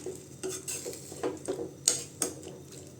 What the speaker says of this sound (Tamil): நல்லா சேர்த்து நல்லா கலந்து விட்டுக்கலாம்